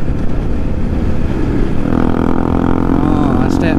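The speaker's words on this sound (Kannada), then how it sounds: "ಅಷ್ಟೇ ಇಂಜಿನ್ ಬ್ರೇಕಿಂಗು" A BMW F850 GSA adventure motorcycle slows under engine braking on a highway ride. Its loud, steady engine drone mixes with heavy wind rush, and the pitch slides as the bike decelerates.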